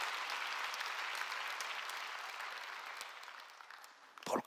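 A church congregation claps during a sermon, a dense burst of applause that slowly fades over a few seconds before a brief louder sound at the end.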